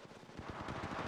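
A quick, close burst of rapid-fire weapon shots from Apex Legends Mobile, a dense stuttering rattle lasting about a second, loud and continuous with no speech.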